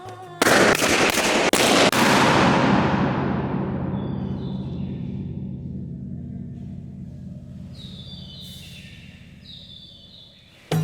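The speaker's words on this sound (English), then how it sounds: "We recorded around 100 explosions in the chambers with our sound level meters." Several sharp, loud balloon bursts in quick succession, each followed by a long reverberant tail that slowly fades inside an enclosed, echoing ancient granite chamber.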